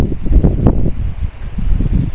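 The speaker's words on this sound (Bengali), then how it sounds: "আর এরকম দারুণ হাওয়া দিচ্ছে" Wind blows across a hillside in Namchi, South Sikkim, as clouds drift up from the valley, a heavy low buffeting rumble pressing close against the microphone for a couple of seconds.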